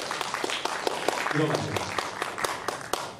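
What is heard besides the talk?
applause, clapping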